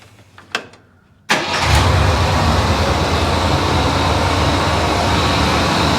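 An AMC 258 inline-six in a CJ5 Jeep, fitted with the correct carburetor, fires up after a few quiet clicks and settles into a steady, even idle close by, with no talk over it.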